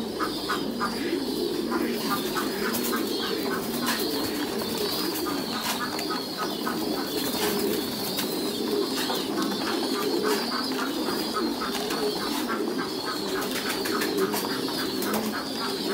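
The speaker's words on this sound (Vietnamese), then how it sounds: "Bên các bên dãy bên này là chim bồ câu đẻ được" Thai Titan pigeons coo in a breeding house, with many soft, repeated coos overlapping steadily and a few chirps and wing flutters in the background.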